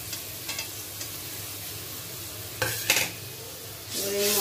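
Ground spices are sautéed in a pan, a soft sizzle with scattered scraping strokes, a louder burst of spoon-against-pan stirring midway, and a swelling sizzle at the end.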